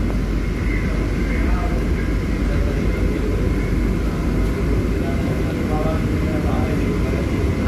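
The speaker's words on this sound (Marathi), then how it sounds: "ओके आपली गाडी थांबावलीवरून सुटलेली आहे." A Mumbai AC slow local train running just after leaving Thambavali station between Kandivali and Borivali, heard from inside as a steady loud rumble and hum of motion and cooling, with faint voices underneath.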